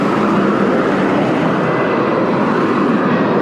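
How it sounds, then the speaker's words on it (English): An EasyJet airliner passes low on approach near Faro Airport with wheels down, a loud broad engine roar that stays steady and close for the whole stretch. "Here comes an EasyJet plane"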